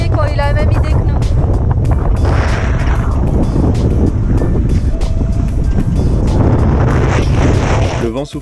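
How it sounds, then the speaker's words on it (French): Strong headwind buffets a sailboat passing near Gibraltar, a loud continuous roar of wind noise with rushing water and hull sounds throughout. "Le vent soufflait fort dans le nez"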